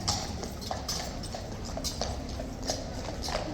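Horse hooves clip-clop steadily on hard ground at Horse Guards, a trooper's mount with a white star on its face, the footfalls close and evenly paced over a constant outdoor hum with no talk.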